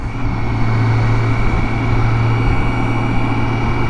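A BMW K1600 GTL motorcycle passes a truck on the road, with a loud, steady engine drone mixed with wind and road rush, close and continuous throughout.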